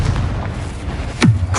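A Confringo fire spell from Hogwarts Legacy bursts with a short, deep booming blast over steady low game rumble, one sharp impact near the end.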